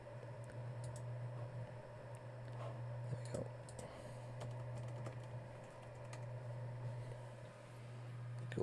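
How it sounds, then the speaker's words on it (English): Quiet clicking of keys as a password is typed on a computer keyboard, faint scattered taps over a steady low electrical hum. "so I just need to type in a password there."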